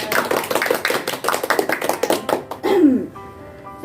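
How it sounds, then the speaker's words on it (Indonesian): A small group claps together in rapid, fairly even patters for about two and a half seconds. A voice speaks briefly as the clapping fades out. "Beri aplaus."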